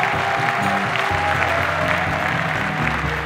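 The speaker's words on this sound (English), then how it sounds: "Give them a round of applause." Audience applauding two salespeople at a company event, a loud, continuous round of clapping with a low hum underneath and a little crowd noise.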